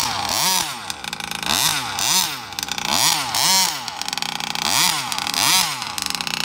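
A Rovan Baja 32cc two-stroke RC car engine running rich revs up and down in a steady repeating cycle, rising and falling about once a second, loud and close with a rough, buzzy tone and no talking.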